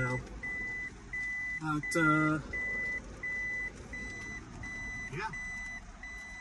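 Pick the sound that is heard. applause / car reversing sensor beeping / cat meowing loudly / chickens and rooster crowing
car reversing sensor beeping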